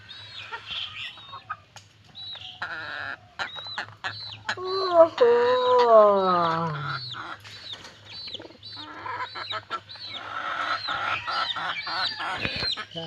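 A single rooster crows in a long rising-then-falling call near the middle, with clucking chickens and other fowl around it, the calls fairly close against a steady low hum.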